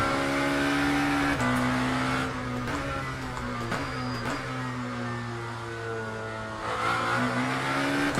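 A Lamborghini race car in the racing game Le Mans Ultimate, its engine droning steadily through the gears with sharp shifts and a brief lift, loud and continuous with no talking.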